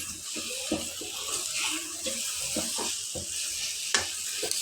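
Fried bitter gourd pieces are mixed into sizzling masala for a curry, a steady frying hiss with soft, irregular stirring scrapes close by.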